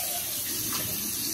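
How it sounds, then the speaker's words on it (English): Food is rinsed under a running kitchen tap while making a Jamaican corned beef sandwich, a steady loud gush of water close by with no talk over it. "I'm just rinsing out now."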